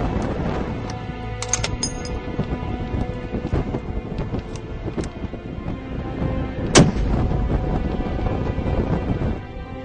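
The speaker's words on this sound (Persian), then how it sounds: "الان رسیدیم به جایی که بچهای صابرین دارن تمرین تک تیراندازی انجام میدن" Sniper shooting practice by a special forces unit with heavy rifles outdoors among rocks, heard as dense, rumbling gunfire with booming reports and echoes, a sharp loud crack standing out near the middle.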